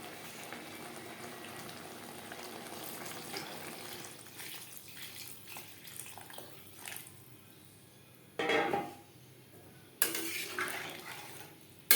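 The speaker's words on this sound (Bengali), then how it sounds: "গ্রেভির সাথে আলু বেশ ভালো করে মিক্সড করে দেব।" Potatoes are stirred into a watery gravy in a pan, soft bubbling and sloshing with a few metal scrapes and louder splashing bursts, close and fairly quiet, with no voices.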